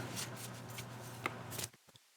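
Tarot-style cards being shuffled nearby in quick papery riffles and flicks, ending in a few soft taps, quiet in a still room.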